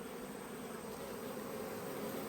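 Honey bees buzzing around an open backyard beehive during an Australian hive inspection, a soft, steady drone with no voices.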